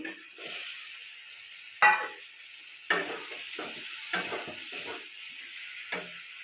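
Egg curry masala being sautéed and stirred in a pan, with soft sizzling beneath a few distinct scrapes and clacks of a spatula against the pan, close by and moderately quiet, with no talking.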